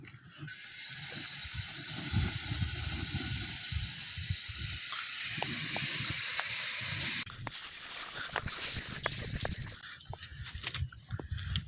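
Ghee hisses in a very hot pan outdoors, a loud, steady sizzle that drops abruptly partway through and continues more softly with occasional scraping clicks.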